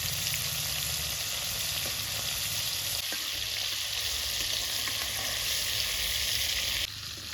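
Prawns fry in hot oil in a wok, a loud, even sizzle running continuously close up with no talking, easing slightly just before the end.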